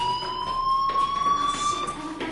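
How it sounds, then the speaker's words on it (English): A fire alarm sounds with a sustained, slightly rising electronic tone and harmonics, loud and continuous, with faint background noise and no talking. "Do you hear that fire alarm?"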